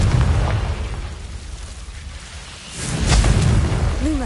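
A Confringo spell explodes in Hogwarts Legacy as a loud, close fiery blast. A rumbling roar fades and then swells again into a second burst.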